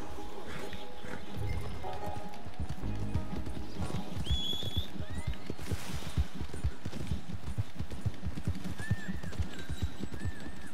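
Rapid clip-clop of wild Thoroughbred horse hooves in Red Dead Redemption 2 runs throughout, with a few short neighs and whinnies rising above the galloping rhythm.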